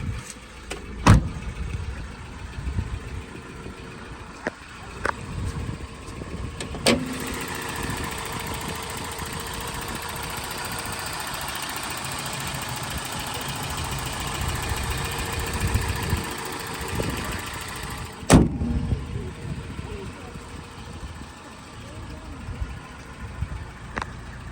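A 1993 Toyota 4WD pickup's 4-cylinder engine idles with a steady, even mid-pitched rumble for the whole stretch, punctuated by a few sharp clicks and knocks nearby.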